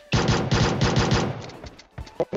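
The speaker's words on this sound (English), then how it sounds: "I'm getting shot over here" Gunfire in PUBG Mobile during a pistols-only match: a rapid burst of about ten loud, close shots in quick rhythm, followed by a few scattered fainter reports.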